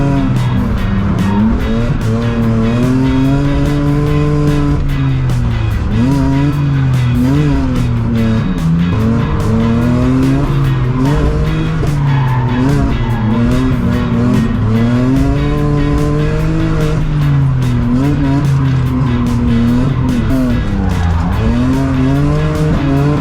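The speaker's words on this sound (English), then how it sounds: "we're gonna get some laps with Archie" Race car lapping a track, engine revving loud and continuous throughout with repeated rising and falling pitch sweeps as it accelerates and brakes, tires squealing through corners, no talk.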